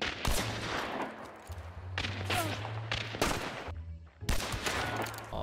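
Gunfire in the video game Hunt: Showdown, several loud close gunshot bursts cracking out at irregular intervals over a low droning background hum.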